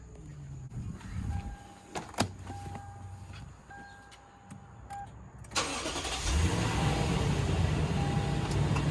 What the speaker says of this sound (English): and we'll start the truck again.